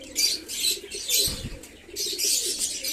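A quick burst of wing flapping from domestic White Mukhi or Kaldoma Giribaz pigeons, close and loud, set among ongoing soft cooing and chirps from the flock.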